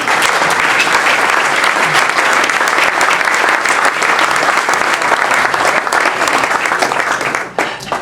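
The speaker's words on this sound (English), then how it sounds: "I encourage you to raise your hand as well for a round of applause" A room full of people at a members' gathering claps in a sustained, dense round of applause that holds steady for about seven seconds, then thins out and tapers off at the end.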